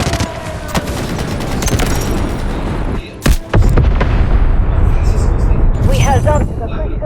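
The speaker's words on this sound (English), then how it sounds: "Artillery barrage incoming." An artillery barrage strikes in the military shooter Delta Force, with dense rumbling explosions and crackling gunfire running almost continuously. One sharp, heavy boom lands near the middle, and radio-style voices speak over the battle.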